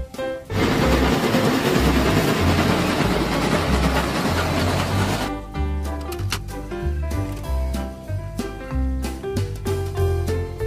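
Toy train sound effect: a loud, dense rumbling hiss for about five seconds, then a run of bright chiming, melodic tones with no talking.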